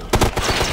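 Rapid gunfire bursts in a Ghost Recon tactical shooter video game battle, several sharp close shots in a quick irregular cluster, loud and with no talking.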